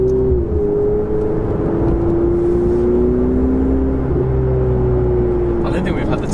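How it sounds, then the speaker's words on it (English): Engine of a Ferrari 488 GTB while driving, a steady loud low drone with a gently shifting tone, heard from inside the car. "But damn, I'm driving a 488."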